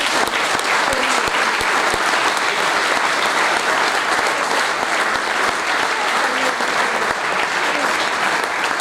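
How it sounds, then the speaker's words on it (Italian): An audience at an Alpine choir festival gives sustained, loud, dense applause that holds evenly throughout, with many hands clapping together. "dobbiamo rivolgere un sincero applauso"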